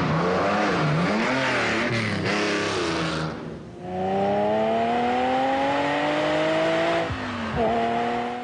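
A Lamborghini Countach engine revs and accelerates, its pitch climbing through gears with a brief dip between shifts, loud and close.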